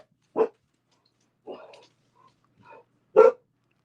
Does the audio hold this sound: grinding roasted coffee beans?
no